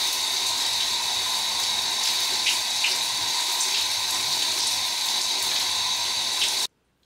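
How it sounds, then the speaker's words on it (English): Tap water runs steadily as hair is rinsed under it, a loud, even, close rush that continues without a break and then cuts off abruptly just before the end. "I think it's time to rinse."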